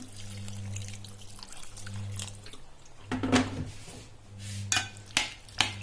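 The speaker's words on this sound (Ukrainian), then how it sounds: "Заливаємо все водичкою." Water is poured into a pot of pork stew with onion and carrot, making a soft, close trickle and splash with a few clinks of cookware; the water starts and stops in bursts, and no one speaks.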